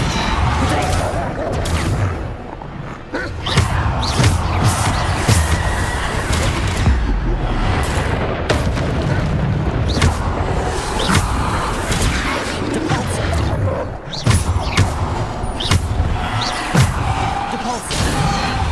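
Bombarda blasting spells exploding during Hogwarts Legacy combat, a relentless string of loud bangs, crashes and impacts, with a voice shouting over the din throughout.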